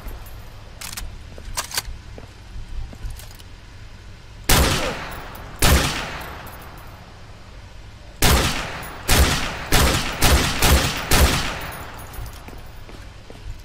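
Gunfire in Call of Duty Modern Warfare 2 Remastered: two isolated loud reports, then a rapid string of about six sharp shots with echoing tails, over a low background hum.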